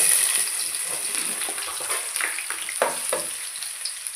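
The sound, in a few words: frying chopped vegetables (carrot, onion, potato) in pan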